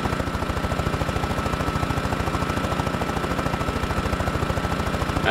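In DayZ, a helicopter engine chugs at a fast, regular beat with a lawnmower-like rattle. It holds loud and constant from the cockpit, with no talking.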